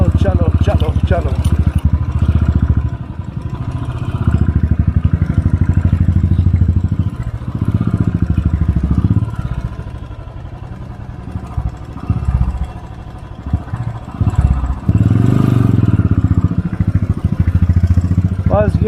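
A motorcycle engine labours steadily uphill in first gear on a high-altitude mountain road, loud and close with clattering mechanical noise, while voices talk over it throughout.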